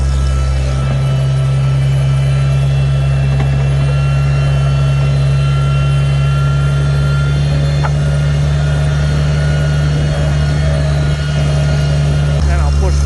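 A tractor engine drones loud and close while plowing snow, a steady low hum with no change in pitch for the whole stretch.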